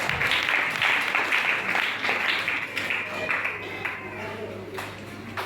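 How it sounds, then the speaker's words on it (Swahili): A church congregation claps together for Jesus during a Swahili sermon, a lively burst of many hands that gradually thins and softens, with a low steady hum underneath. "Piga Yesu makofi."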